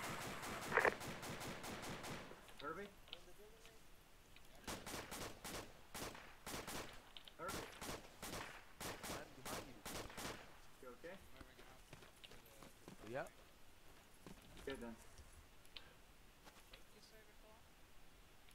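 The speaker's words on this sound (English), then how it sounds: "Scratch that, we're taking fire from the east." Gunfire in the military shooter Arma 2: a dense burst of rapid shots at the start, then separate volleys of sharp cracks spaced a few seconds apart, with scattered distant reports between them and people talking over radio underneath.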